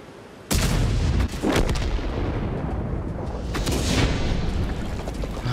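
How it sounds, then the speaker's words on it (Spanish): Artillery fire in the World of Tanks game: a sudden heavy boom kicks in, followed by further deep blasts and rumbling impacts that sustain loud and close throughout, with no talk over them. "Lo mataba a otra artillería."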